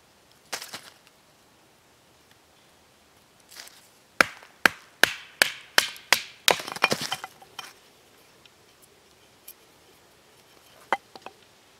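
A run of sharp wooden cracks and splits as a Kephart knife splits poplar, about eight quick strikes in a row, close by, with a few scattered knocks before and after.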